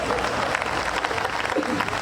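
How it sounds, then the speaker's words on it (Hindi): An audience at a Hindi comedy poetry gathering claps in a sustained burst of applause, close and lively, with a voice heard over the clapping. "आप लोग जोरदार तालियां बजाइए"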